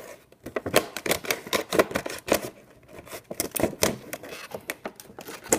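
Scissors snip through the plastic of a retro Amiibo three-pack blister, cutting along the edges where the plastic joins the cardboard backing, in a quick irregular run of close, crisp clicks and crinkles with no talking.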